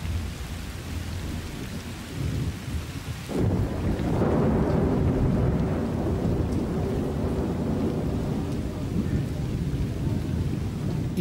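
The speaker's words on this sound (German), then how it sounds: "Seit Monaten fällt der erste, lang ersehnte Regen." Heavy rain with rolling thunder in a Madagascar forest at the start of the rainy season, a steady downpour that swells sharply about a third of the way in and then holds as a dense, loud roar with no voices.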